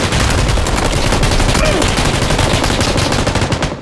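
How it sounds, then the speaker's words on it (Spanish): Automatic weapons fire in the battle royale shooter PUBG: a dense, continuous rattle of rapid shots, loud and close, sustained without a break. "Está disparando desde noreste"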